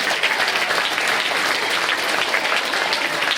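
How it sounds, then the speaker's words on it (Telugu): A roomful of college students claps loudly for themselves, a thick continuous burst of applause that stays full and even from start to finish. "గట్టిగా క్లాప్స్ కొట్టుకుందాం మనకి మనం."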